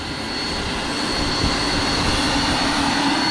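An RC MD 600N model helicopter powered by an electric ducted fan hovers at about 24,000 RPM, giving a steady, loud, high-pitched whine and roar that runs unbroken throughout.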